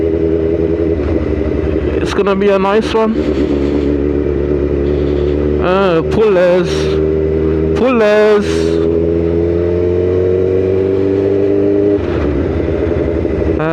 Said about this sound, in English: my exhaust is absolutely bugging out